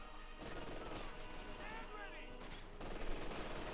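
Machine gun fire in Company of Heroes 2, a sustained rattling fusillade of rapid shots that runs through the whole moment, dense and fairly loud, with battle din and a commentator's voice underneath.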